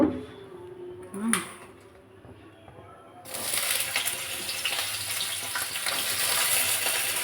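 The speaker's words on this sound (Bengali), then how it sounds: "উচ্ছে ভাজা বসিয়ে দিয়েছি" Bitter gourd frying in hot oil in a very hot kadai, a steady broadband sizzle starting abruptly partway through and holding loud to the end, after a quieter stretch with a brief clink.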